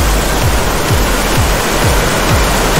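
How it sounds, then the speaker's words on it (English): A waterfall in a whitewater kayaking VR game roars as a loud, steady wash of rushing water, dense and continuous throughout. "We're going over a waterfall"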